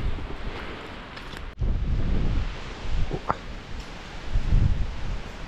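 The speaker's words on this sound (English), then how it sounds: "it's bloody windy up here" Strong, steady wind roars across an open microphone on top of Castle Crag, buffeting in gusts with low rumbling surges throughout.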